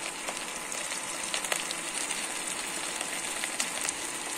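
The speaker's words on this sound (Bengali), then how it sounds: "দিয়ে কিন্তু আদা রসুন বাটাটা একটু কষিয়ে নেব, একটু কাঁচা গন্ধটা যাতে চলে যায়।" Ginger garlic paste and onions fry in a pan, giving a continuous even sizzle with small crackles, close and alone.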